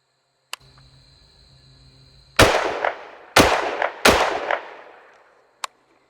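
Three loud, sharp gunshots from a short-barreled rifle at an outdoor range, aimed at a target 7 yards away. Each shot rings out briefly and is irregularly spaced, with quiet faint clicks before and after.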